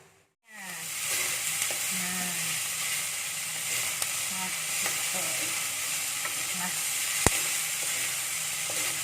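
Meat for Taiwanese lu rou fan cooks down in a pan until its water evaporates and the oil comes out, making a loud, even, close sizzle that starts abruptly and runs on, with a faint clink or two.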